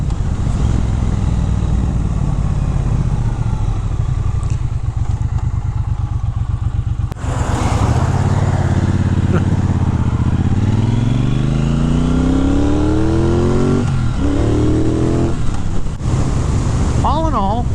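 A 2023 Triumph Bonneville Bobber 1200 motorcycle engine and exhaust, loud and close: a deep, steady rumble shifts into repeated rising revs as the bike accelerates through the gears.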